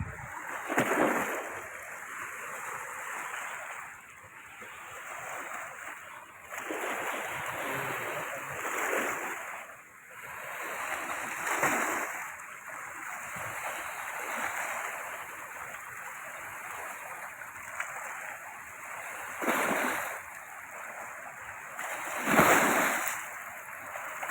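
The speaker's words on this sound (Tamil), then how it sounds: "கரை புரண்டு போகுது தண்ணி" Floodwater of the Kaveri river at Erode rushes over its banks in a steady broadband roar, surging louder and softer in waves, with occasional splashes standing out close by.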